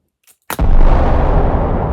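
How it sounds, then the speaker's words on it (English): A loaded projectile weapon fires at a target in a single loud, sharp boom after a brief faint tick, then a long, dense roaring rumble and crackle that sustains to the end. "Ready firing at our target."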